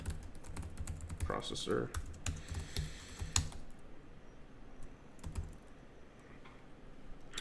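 Code being typed on a computer keyboard, a close, rapid run of key clicks in bursts that thin out toward the end, with a person speaking briefly over it.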